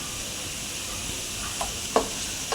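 Chana masala base frying in oil in a pan, a soft continuous sizzle and hiss with a couple of brief clinks from a spoon near the end, close and moderate in level.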